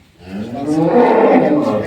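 A newborn calf, about a week old, on a dairy cattle farm gives one loud, close moo that swells and holds for under two seconds.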